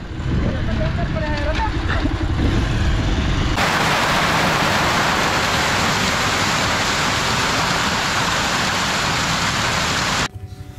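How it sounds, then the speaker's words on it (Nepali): Steady heavy rain pours outside a village office in Ghandruk, a dense continuous hiss that drowns everything; a few voices and faint tones show early on before the downpour swells loud and even. "बाहिर पानी पऱ्यो"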